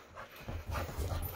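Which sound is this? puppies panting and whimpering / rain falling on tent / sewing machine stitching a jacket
puppies panting and whimpering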